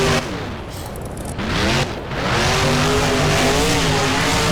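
A monster truck in the BeamNG driving game roars loudly, its engine revving as the tires screech and squeal in long sweeping runs.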